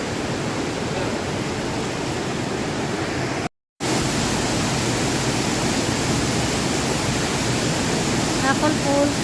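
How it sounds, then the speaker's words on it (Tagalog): Apple Falls waterfall at Tacul, Sultan Kudarat, roaring as a steady, dense wash of falling water close by, with one brief dropout midway and a faint voice near the end. "Apple Falls"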